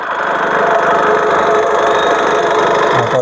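A 2016 Honda City VX diesel engine idles steadily with a continuous low rumble and mid-range mechanical hum, close and moderately loud throughout, with no voices.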